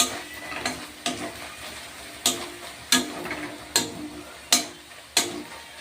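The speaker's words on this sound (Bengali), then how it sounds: "ভালো করে একটু নেড়ে নেব।" Spices and chili powder being stirred in a hot pan for chicken kosa, with a soft, steady sizzle broken by about eight sharp spoon scrapes and taps at a loose, regular rhythm.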